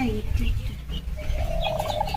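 Chickens kept for laying eggs in a rural Sundarbans yard cluck and chirp faintly in short bursts over steady low background noise, with a brief voice murmuring.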